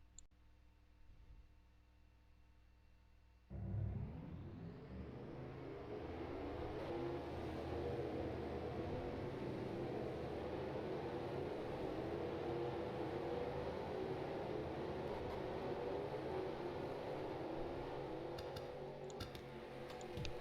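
Racing trucks in a video game begin rolling off at Dover, a sudden swell of engine roar after a quiet start that settles into a steady, dense drone of many trucks running together.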